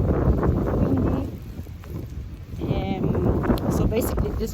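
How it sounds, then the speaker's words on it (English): Strong wind on a cold snowy day buffets the microphone outside, a rough gusting roar with surges and lulls, while a person talks over it. "It's really windy."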